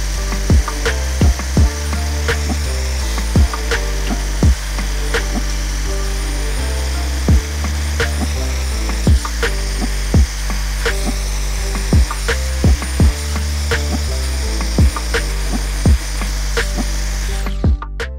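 A paint removal pad on a power tool scours the gasket surface of a 360 Magnum engine block, a loud continuous grinding drone punctuated by regular sharp ticks throughout.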